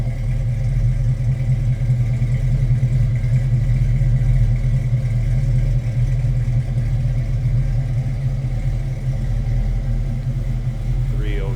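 A 1967 Ford Mustang Coupe idles with a steady, deep engine rumble, close and continuous without revving.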